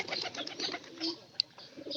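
Pigeon cooing at close range, soft repeated throaty calls with a short sharp chirp partway through, a brief two-second burst among other faint bird sounds.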